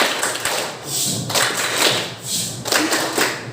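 Schoolchildren clap through the 'tepuk diam' routine in a classroom, with several short, dense bursts of hand claps and thuds in quick rhythm that rise and fall, and some background chatter.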